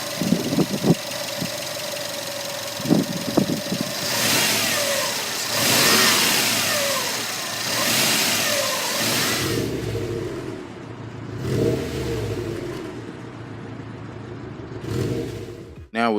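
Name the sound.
2018 Subaru WRX STI 2.5 liter turbocharged engine running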